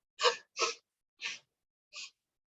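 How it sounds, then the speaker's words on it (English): Four short, breathy bursts come close together and quiet, like a series of sneezes that fade in strength, with silence between them. "That is a powerful sneeze."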